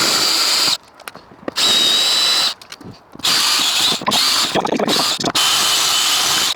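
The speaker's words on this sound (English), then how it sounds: "Thing doesn't want to be drilled out." A power drill bores out a rivet on a Toyota Proace sliding door, whining loudly in several bursts with short pauses between them and no talking.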